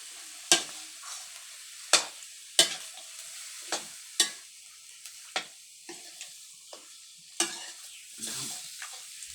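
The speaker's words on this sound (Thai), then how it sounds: "ลวนไก่สักพักหนึ่งนะคะ" Repeated scraping stirs of a utensil in a pot of chicken, irregular strokes over a soft sizzle of frying, close by.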